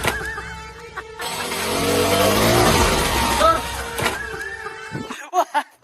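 An 8S RC car running at 40,000 rpm accelerates hard: a loud, close whine surges for a few seconds, then drops away to scattered sounds, with people talking and laughing over it.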